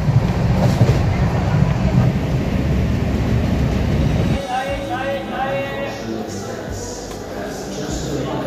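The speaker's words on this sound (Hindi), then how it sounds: "अभी ही ट्रेन आकर रुकी है" A train pulls into a station in Agra and comes to a stop, a loud rumbling roll with wheel clatter that drops sharply partway through, leaving quieter rhythmic clicks and hum as it halts.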